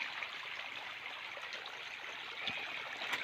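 Rambutan fruit are dunked in water at an orchard, giving a steady soft rushing and trickling wash with a faint splash near the end, heard alone without voices.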